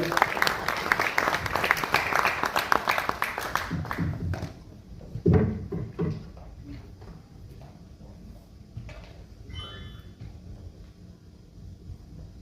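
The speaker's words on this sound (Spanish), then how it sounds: "Le damos un aplauso a María." Audience applause at a Latin American therapeutic communities congress, dense clapping for about four seconds that then thins out into scattered claps and room noise.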